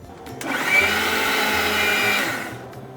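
A mixer grinder blends chutney for a Bhavnagar-style dal puri meal, a loud close motor whir that starts abruptly, holds steady for about two seconds, then winds down.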